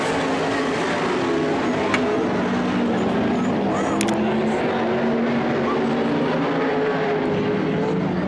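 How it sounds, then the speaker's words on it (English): Sportsman sprint race cars on an oval track running a warm-up lap, a steady droning engine roar holding at a distance throughout, with a few brief sharper spikes over the constant noise. "They're going to do a warm-up lap, get some heat in the motors, and then we're going to go racing."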